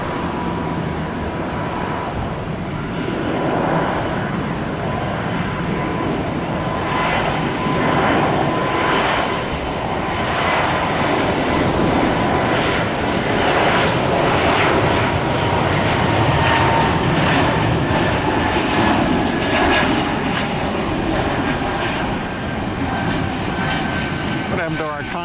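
A UPS MD-11 jet airliner taking off at Tampa airport, its engines a loud broad roar that holds steady, swells and rolls for the whole stretch, with a faint voice underneath.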